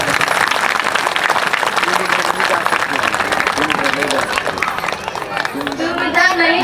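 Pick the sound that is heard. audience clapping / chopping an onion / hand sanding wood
audience clapping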